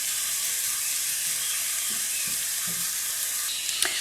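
Onion for a shimeji risotto frying in a pan, turned golden, makes a steady close sizzle and hiss with a few faint stirring knocks and a sharper clink near the end.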